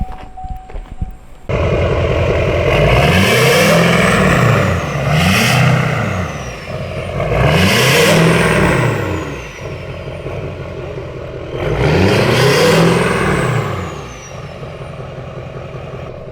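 A truck engine starts and then revs hard in three or four separate surges, each climbing and dropping back, loud and close with a steady running rumble between them.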